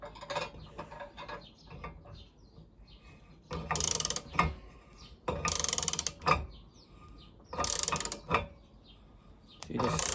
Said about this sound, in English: So we're just going to tighten this down a little bit.